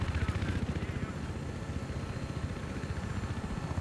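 Rapid rhythmic thumping of helicopter rotor blades in Battlefield 3, steady and fairly loud throughout, with an engine drone underneath.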